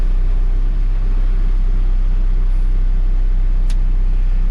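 A 2013 Case 590SN 4x4 loader backhoe runs its engine as it is put in gear, a steady, loud low rumble recorded close by with no talking.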